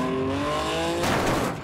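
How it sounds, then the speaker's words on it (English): A car in a demolition derby video game speeding into position, a loud engine whine rising in pitch, then a rough burst of tire and impact noise, alone and close. "The Fury speeds into position."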